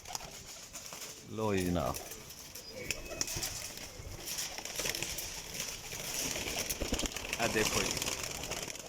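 Teddy breed pigeons coo softly in a loft in Jhelum, their low repeated calls half buried under someone talking close by, with a brief flutter of wings.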